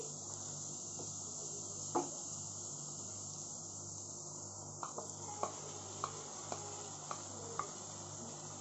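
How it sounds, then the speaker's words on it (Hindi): Tomato puree meets a pan on low flame, raising a soft, faint sizzle with a few light clicks and pops spaced irregularly across a steady background hiss. "अब हम डालते हैं अपनी टमाटो की प्यूरी।"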